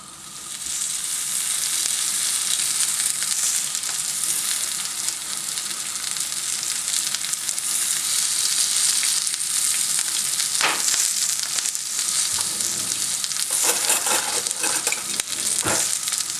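Sucuk sausage slices and peppers fry in a pan for a Turkish toasted-bread sandwich, giving a steady, loud, close sizzle throughout, with a few sharper crackles and spatula scrapes near the end.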